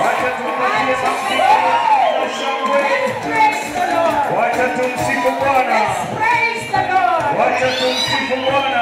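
A church congregation on Father's Day claps and cheers for the men, a lively crowd roar with whoops and shouts layered under a loud voice speaking over the noise.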